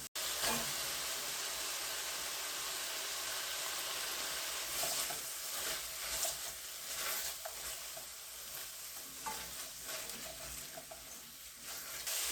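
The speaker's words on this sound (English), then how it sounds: "But before we add our cream, we are going to add our vegetables now." Vegetables tumble into a pot of creamy one-pot pasta, stirred amid a steady sizzle and hiss of cooking, continuous and close with faint scraping and clatter.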